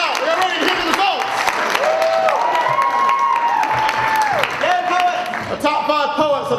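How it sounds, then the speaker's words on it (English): Audience at a poetry grand slam final at UNC Chapel Hill breaks into sustained applause and cheering, with scattered whoops and shouts rising over steady clapping from a close, full room. "Let's have a big round of applause for all 8 of these magnificent poets."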